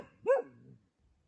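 A single sharp dog bark at night while camping in the woods, close and fairly loud, followed by a brief low trailing growl and then quiet.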